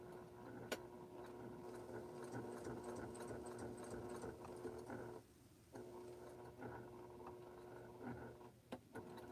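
Sewing machine backstitching the corner of a quilt tag, a steady close mechanical whir with a brief pause midway and sharp ticks of handling.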